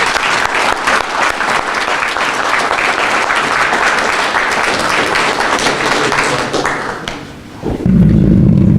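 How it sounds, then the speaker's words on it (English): An audience at a Prince George's County Police Department ribbon cutting breaks into loud, sustained applause that thins out near the end before a few thuds and shuffling noises. "the round of applause as I take my seat and say thank you"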